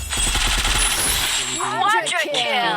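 Rapid automatic gunfire from the Free Fire shooting game bursts loudly for about a second and a half, then gives way to a voice talking close by.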